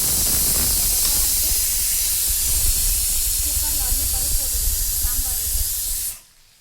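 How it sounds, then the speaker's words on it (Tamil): Ivy gourd (kovakkai) sautéing in a pan while sambar is being prepared, giving a loud, steady sizzling hiss with faint scattered crackles that cuts off abruptly near the end. "கோவக்காய் போட்டு அப்படியே கொஞ்சம் நல்லா வதக்கிட்டோம்"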